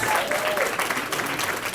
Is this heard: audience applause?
yes